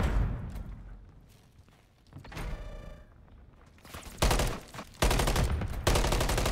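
Gunfire in a shooter video game: scattered shots and clatter early, then dense, loud bursts of rapid fire from about four seconds on, with no talk.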